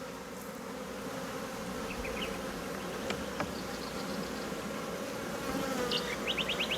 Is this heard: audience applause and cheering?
no